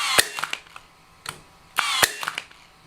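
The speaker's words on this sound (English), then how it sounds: "You have the regular mode for firing nails, where you engage the tip with the surface and press the trigger to fire." A Ridgid brushless 18ga or 16ga Hyper Drive cordless nailer fires nails in regular mode, giving sharp, loud snapping bangs with short mechanical clatter after each, spaced irregularly over a few seconds.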